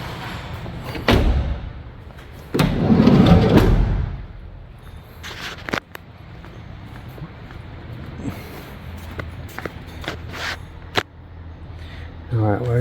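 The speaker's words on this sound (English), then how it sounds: "And close the doors and lock the vehicle." Doors of a 2020 Ford Transit Connect van being shut, with several solid thuds and a sharp slam across the span, then smaller clicks and knocks as the van is locked, heard close by.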